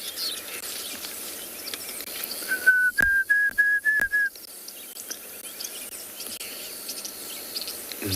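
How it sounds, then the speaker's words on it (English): A Diederik cuckoo calls from far off at sunrise, a short run of thin rising whistled notes repeated quickly, faint against quiet bush ambience and insects. "I can hear Deirdre's cuckoo in the distance."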